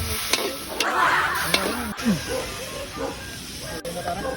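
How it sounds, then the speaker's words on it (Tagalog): Meat frying in a pan, with a soft steady sizzle and hiss plus a few scraping stirs, heard close up under casual chatter among friends. "At ilalagay na nga pala natin ang karne sa kawali."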